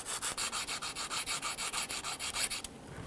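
Rhythmic back-and-forth rasping of 240-grit sandpaper on rusty metal on a 2006-2010 Hummer H3, about a dozen quick even strokes, close up, then it stops.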